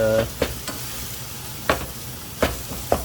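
Cut-up meat browns in a pan on a tiny stove, sizzling constantly while a utensil scrapes and stirs in a few sharp, spaced strokes close by.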